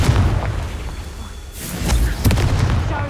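Confringo blasting-spell explosions in the Hogwarts Legacy video game, a loud booming burst with a second heavy impact around midway, layered over dense game background noise.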